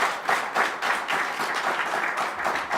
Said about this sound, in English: Let's get a big round of applause for Tom Merritt.